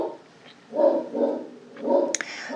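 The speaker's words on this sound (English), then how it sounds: "I apologize if you hear our dogs barking." Several dogs bark in short bursts from a distance, muffled and indoors, in a quiet room during a foam crafting session.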